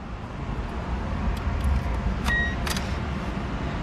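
A 1999 Mazda Miata with about 146,000 original miles idles steadily close by, a constant low engine hum with a few faint clicks and jingles partway through, and no talking.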